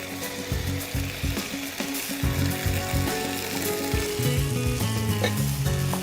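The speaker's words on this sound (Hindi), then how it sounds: "इसमें मैं डालती हूँ ये सारे ब्लांच करे हुए वेजिटेबल्स।" Blanched vegetables go into a sizzling, nearly finished curry gravy for sabzi qorma, giving a loud, continuous crackle and hiss with clattering stirs, while a faint tonal hum runs underneath and no one speaks.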